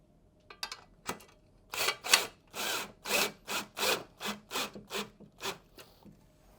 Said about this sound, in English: I always like to finish up with a ratchet.